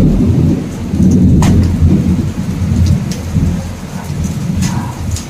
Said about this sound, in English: with thunder sound and hailstones